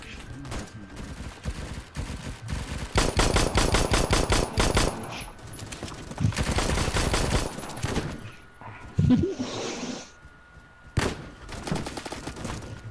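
Automatic gunfire in the video game Phantom Forces, rapid bursts of rattling shots in several runs separated by short lulls, fairly loud and close.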